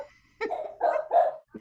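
A frightened dog barks several times in quick succession, close and fairly loud, with short gaps between the barks.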